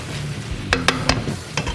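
Steak Diane sizzling in butter in a pan, a dense close hiss broken by a few quick clicks and scrapes of a utensil against the pan.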